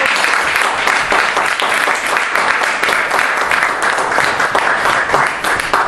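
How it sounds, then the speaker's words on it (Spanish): A church congregation at a Spanish-language service applauds loudly and steadily, a dense wash of many hands clapping with no break for the full length. "Den un aplauso al Señor, hermanos."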